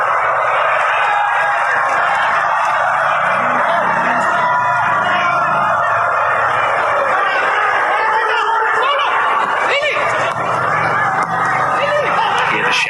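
A football stadium crowd at a Bali United versus Melbourne Victory match keeps up loud, dense shouting and whooping throughout, with a commentator talking over it.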